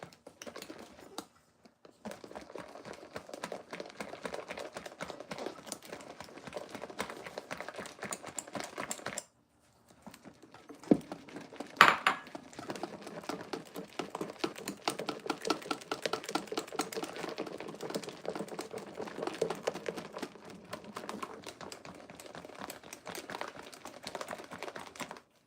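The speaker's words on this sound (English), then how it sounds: "Just keep whisking." Hand whisking of cream into homemade butter, a steady rapid rhythm of whisk strokes against a bowl that runs almost continuously, with one brief pause partway through.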